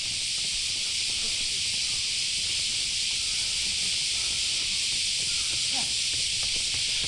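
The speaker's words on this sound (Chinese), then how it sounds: "蝉鸣的声音太大了" Cicadas on Mount Fuji fill the air with a loud, steady, high-pitched buzzing drone that holds without a break from start to finish.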